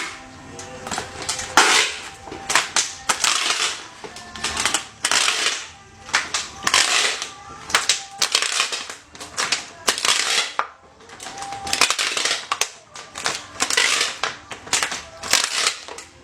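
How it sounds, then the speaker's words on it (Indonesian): Duct tape is pulled tight and wrapped around the middle of bundled plastic bottles being built into a table and chair. Close, repeated crackling tears and plastic crinkles come in irregular bursts throughout. "Sekarang bagian tengahnya kita lakban kembali."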